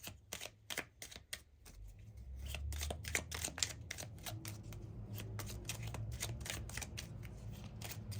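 Oracle cards are shuffled by hand in quick, crisp bursts of riffling and snapping, close and fairly quiet, repeating steadily with brief pauses between.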